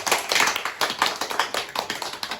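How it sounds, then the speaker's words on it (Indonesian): Classmates clapping together in a school classroom, a short burst of scattered handclaps from a small group, fairly close and lively, with no voices over it. "tepuk tangan teman-teman"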